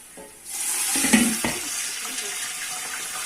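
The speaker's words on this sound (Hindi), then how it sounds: "और अब इसमें मैंने थोड़ा सा पानी डाल दिया।" Water poured from a tap or jug into a pan of lightly browned onions while cooking beef yakhni pulao, a steady rushing splash that starts after half a second and continues loud and close to the end, with no talk.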